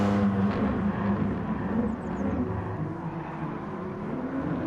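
A Porsche race car in a racing video game drives on boost with a steady whirring engine drone, fairly loud and even, easing off slightly toward the end, with no voices.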